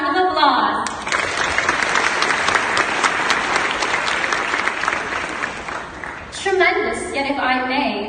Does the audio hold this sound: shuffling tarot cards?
no